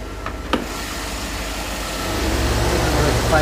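A 2011 Chevy Suburban's 5.3 liter Vortec V8 idles with a steady low rumble that grows a little fuller toward the end, heard close and fairly loud.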